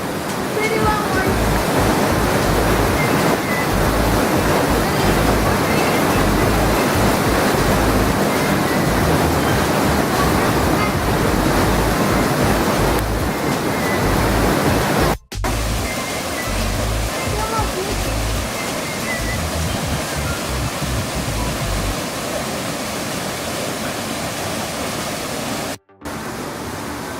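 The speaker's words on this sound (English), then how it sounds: "So this is the end of the waterfall" Waterfall pouring over rocks and running into a river, a loud, dense, continuous roar of rushing water heard up close, with two brief dropouts.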